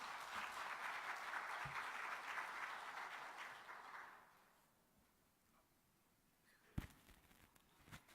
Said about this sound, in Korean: 박수 한번 크게 하십시다.